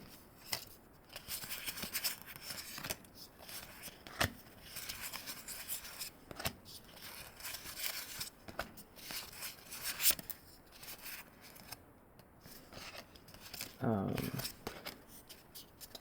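Pokemon trading cards from an Empoleon deck flipped and sorted into piles, with soft repeated slaps, riffles and paper rubs scattered through the clip, close up, while a person talks over it.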